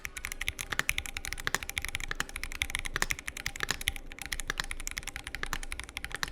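Fast typing on an assembled Keychron Q Series keyboard with a CNC aluminium gasket-mount build, a dense, steady patter of crisp close keystrokes with occasional heavier thocks, no talking over it.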